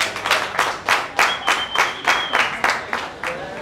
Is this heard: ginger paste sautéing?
no